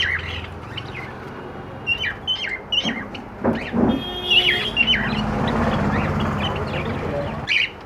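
Cockatiels, golden red-eyed, silver and black Java pairs among them, call in a bird shop. Repeated short chirps and squawks ring out at mid distance over a steady background din, and a person talks briefly between the calls.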